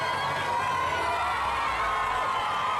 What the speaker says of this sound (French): Une foule qui s'est improvisée à scander des chants pour lui témoigner son attachement.